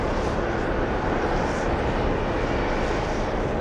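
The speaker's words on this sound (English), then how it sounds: "We have a 747 heading to the runway for takeoff" A Boeing 747 taxis toward the runway at JFK airport, giving off a steady, broad jet roar that holds at an even level for the whole stretch, with no clear peaks or breaks.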